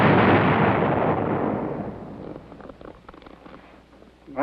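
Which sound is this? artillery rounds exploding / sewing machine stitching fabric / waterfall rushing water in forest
artillery rounds exploding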